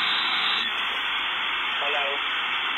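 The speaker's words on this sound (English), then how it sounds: "it's just dialing up to the internet." A dial-up modem connects to the internet, filling the line with constant loud hiss and static, with a short warbling tone partway through and quiet speech beneath.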